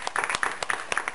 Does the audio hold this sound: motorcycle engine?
no